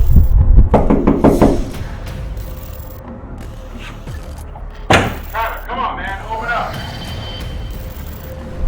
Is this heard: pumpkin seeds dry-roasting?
no